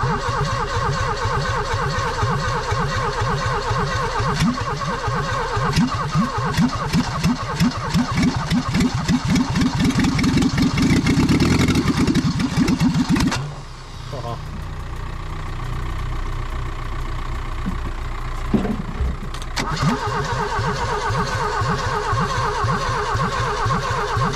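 A Vauxhall Nova left abandoned in a field for 17 years cranks and fires, its engine running rough and loud before a brief dip and a falter, then picking back up into a steady idle.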